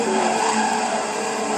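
A GT300 race car in a GT racing video game slides sideways, its tires letting out a loud, sustained skidding squeal over a steady engine drone, close and continuous throughout.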